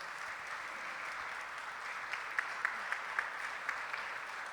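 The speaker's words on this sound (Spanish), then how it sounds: "Lo recibimos con un aplauso." Conference audience applauds to welcome a speaker on stage, a steady wash of many hands clapping at moderate distance, fairly soft, with a few sharper individual claps standing out near the end.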